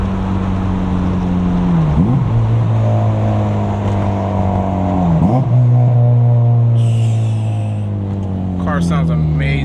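A car engine rumbles at idle and revs up twice, each time sliding back down as it decelerates, with a deep steady drone throughout.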